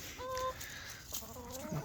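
Buff and comet hens in a backyard flock give a few soft, short clucks and murmurs, quiet and close by, with brief gaps of near silence between them.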